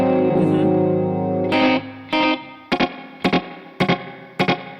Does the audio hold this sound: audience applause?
no